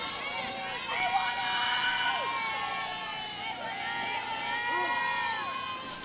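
Spectators at a varsity high school softball game, a steady murmur of many voices with scattered shouts and calls from children spread around the field, fairly distant and continuous.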